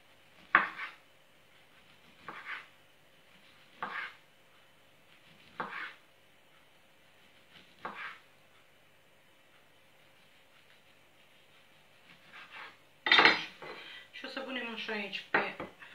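A knife slices an orange into round slices on a board, giving about five evenly spaced soft cuts. Louder clatter and handling noise follow at the end, close up in a quiet kitchen.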